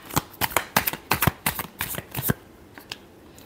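Tarot cards riffled and shuffled by hand in quick repeated bursts, about a dozen sharp flutters close to the microphone, fading to a few softer taps at the end.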